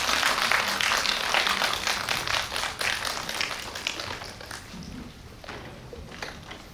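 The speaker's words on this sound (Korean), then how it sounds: "박수 부탁드립니다." A cinema audience at a guest-visit screening bursts into dense applause, many hands clapping loudly at first and then gradually thinning and fading toward the end.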